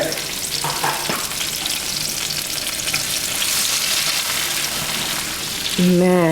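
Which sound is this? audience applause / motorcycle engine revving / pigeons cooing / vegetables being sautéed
vegetables being sautéed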